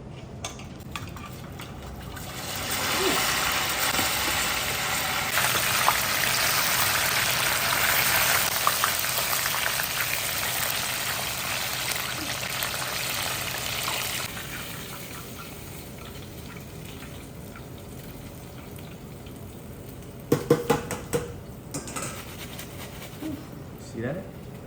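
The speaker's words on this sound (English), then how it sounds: "So we're gonna double fry it as usual" Batter-coated chicken for soy garlic Korean fried chicken crackles in hot oil during its second fry. A loud, dense hiss holds steady for about ten seconds, then eases to a quieter bubbling, with a few sharp clinks near the end.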